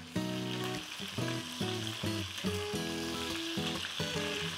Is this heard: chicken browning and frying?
yes